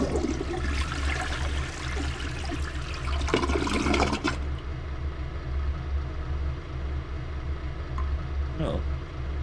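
Toilet flushing in the video game Leisure Suit Larry 7, a rushing watery gush over the first four seconds, then a low steady hum with a brief faint trickle near the end.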